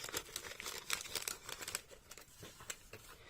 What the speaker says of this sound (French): je remets dans le sachet